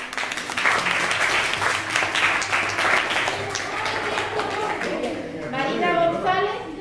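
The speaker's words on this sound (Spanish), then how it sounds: "Un aplauso, ¿no?" Applause from an audience at a school diploma ceremony for a reading-promotion gymkhana, steady clapping for several seconds that fades as a voice speaks over the tail end.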